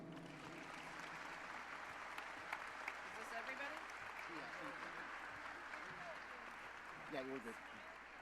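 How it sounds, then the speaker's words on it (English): An audience at a living history program applauds to welcome former prisoners of war, steady mid-level clapping sustained throughout with some faint voices mixed in. "please help me give them a big round of applause to welcome them"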